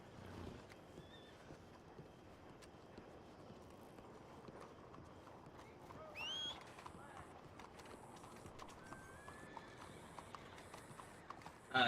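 Horse hooves clip-clop in a video game, a soft, steady rhythmic patter of galloping low in the mix beneath game ambience, with a few brief louder effects near the end.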